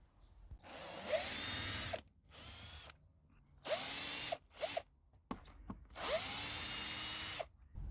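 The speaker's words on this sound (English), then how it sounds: "I'll go and get a screwdriver or a drill and a tech screw fitting and take that panel off" A power drill with a screw fitting backs screws out of a compost bin panel in several bursts of whirring, each a second or two long, separated by short pauses.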